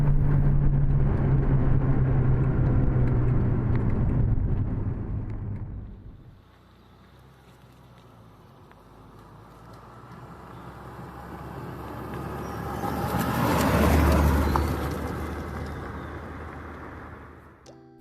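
A 1989 Volkswagen Golf GTI 8v engine rumbles loudly and close, then fades away to a low hum before swelling again as the car passes nearer and recedes, with no speech over it.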